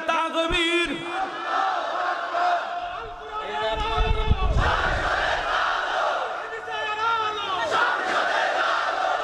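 A large crowd at an Islamic gathering in Bangladesh roars a loud, massed chant of "Allahu Akbar" in response to a leader's call, with many voices swelling together and holding strong throughout.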